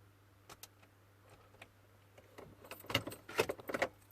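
Keys jingle and rattle at a BMW 1 Series E87 ignition, with faint clicks at first, then a louder cluster of metallic jangles near the end, close up and without talk.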